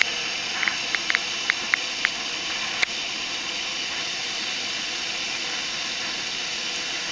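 A Jetboil camping stove burner heating water outdoors: a steady, broad roaring hiss runs throughout, loud and even like a jet of flame, with a few faint clicks early on and one sharp tick.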